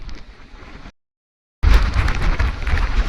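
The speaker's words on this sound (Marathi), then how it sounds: "प्रचंड हवा आहे, बघू शकता." Strong monsoon wind batters a phone microphone on the Garbett Plateau trek, a loud roaring rush that cuts out briefly and then returns stronger.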